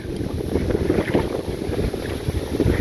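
Wind gusts across a small open country boat on a sunny day, a loud rumbling buffet on the microphone with low churning water beneath, steady throughout and with no voices.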